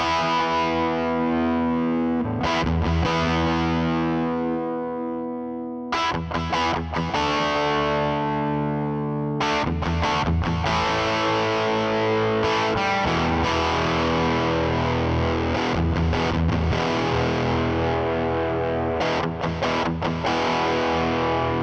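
Electric guitar played through a new effects pedal, distorted chords and sustained notes whose tone shifts between bassy and trebly as the range knob is swept, loud and continuous with a few short breaks and no talking.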